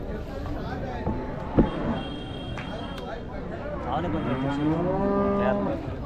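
Cattle moo at a cattle market in Krishnagiri, with a brief sharp knock early on and then a long, drawn-out low moo near the end, heard under nearby talk and market chatter.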